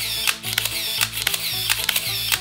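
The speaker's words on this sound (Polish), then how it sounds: "tak zwany winder, czyli urządzenie, które automatycznie przewija kolejne klatki filmu" A motor winder fitted to a Pentax film camera whirs in quick, repeated bursts as it advances the film, each short mechanical buzz ending in a click, close and alone.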